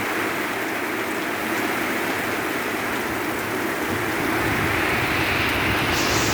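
Heavy rain pours down steadily during flooding weather, a dense, loud, unbroken hiss of water that swells slightly toward the end, with no voices.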